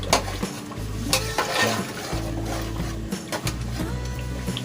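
Water with a few drops of kewra essence stirred into mutton korma masala in a pot, a soft bubbling simmer with scraping stirs and occasional knocks of the spoon, quiet and close.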